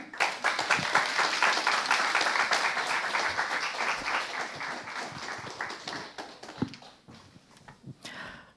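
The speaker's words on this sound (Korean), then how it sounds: "우리 신선미 권사님 나오실 때 큰 박수로 환영하시고 격려해 주시면 좋겠습니다" A church congregation at a Friday Spirit-filled service claps loudly to welcome a woman deaconess coming forward to give her testimony, the applause strongest early and gradually thinning into scattered claps near the end.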